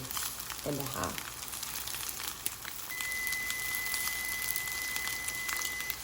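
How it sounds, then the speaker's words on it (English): Over a constant sizzling and bubbling of tofu cooking on a stovetop at medium-high heat, a thin, high electronic kitchen timer tone for rice starts partway through and holds steadily. "That's our timer for our rice."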